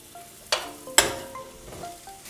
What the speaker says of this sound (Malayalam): ഇതിലേക്ക് നമുക്ക് കുറച്ച് കറിവേപ്പില കൂടി ഇട്ട് കൊടുക്കാം.